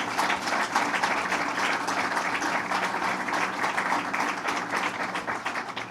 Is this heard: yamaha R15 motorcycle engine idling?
no